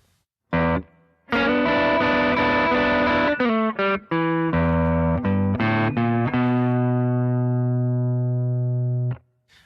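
An electric guitar with a distorted tone plays a blues turnaround lick, a run of separate picked notes and bends that ends on a long sustained note, loud and close with no talking.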